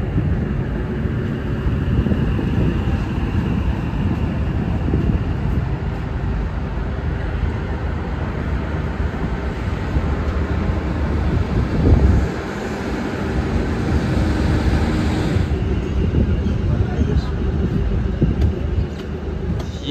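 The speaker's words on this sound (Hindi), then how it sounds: "हमारी ट्रेन बनिहाल रेलवे स्टेशन को अप्रोच करती हुई" Electric train running into Banihal railway station in Kashmir, heard from on board: continuous low rumble and rolling drone of wheels and motors, steady and close throughout with a slight shift near the end.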